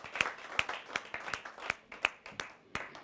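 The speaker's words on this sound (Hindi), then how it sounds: "तालियों से स्वागत करते हैं" Audience applause welcoming a poet at a poetry gathering: sparse, distinct claps, about eight in an even rhythm over three seconds, at moderate volume.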